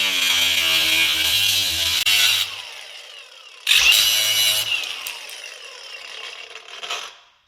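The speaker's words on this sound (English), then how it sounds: "test the grinder. We're going to cut this off" An angle grinder spins up and cuts into a fitting on an LT1 throttle body coolant bypass, a loud high whine that stops, restarts sharply for a second burst, then winds down to silence.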